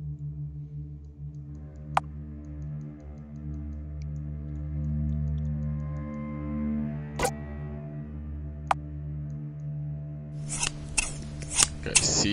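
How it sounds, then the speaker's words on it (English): Scissors snipping in the horror game Edelweiss, a few sharp isolated clicks over a low droning game soundtrack, followed by a quick flurry of cutting sounds near the end. "Scissors."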